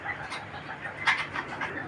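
A big black male racing pigeon coos softly, a few low throaty bursts standing out from a quiet background.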